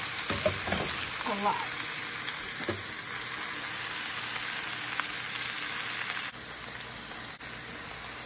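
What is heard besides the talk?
cabbage frying and cooking down in a deep pan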